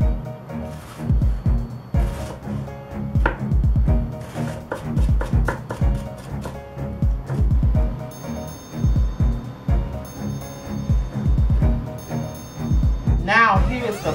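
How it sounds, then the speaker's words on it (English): Knife chopping celery and red onion on a cutting board, with quick rhythmic bursts of close, crisp taps and pauses between runs, while a person talks throughout. "I'm gonna cut up 1/4 cup of celery. Now we need 1/4 cup of red onions."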